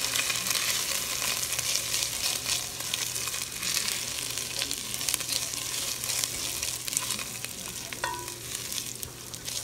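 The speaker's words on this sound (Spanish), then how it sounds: "vamos a poner el arroz. Y vamos a ir meneando." Rice for Mexican red rice fries and crackles in a hot pan, a dense steady sizzle with occasional scraping clicks as it is stirred, close and continuous with no talking.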